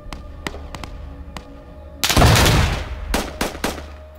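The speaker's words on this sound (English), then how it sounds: "Oh, nice grenade." In the military shooter Squad, scattered sharp gunshots pop at a distance, then a loud grenade blast booms at close range, followed by more quick bursts of rifle fire.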